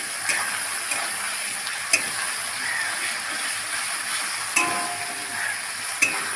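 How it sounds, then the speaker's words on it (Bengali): Ginger paste, garlic paste, cumin, coriander, chilli and tomato sautéing in a pan for a chicken dish, a soft steady sizzle with a few faint clicks of a utensil against the pan. "আদা বাটা, রসুন বাটা, জিরে, ধনে, লঙ্কা, টমেটো, ভালো করে কষিয়ে নেব।"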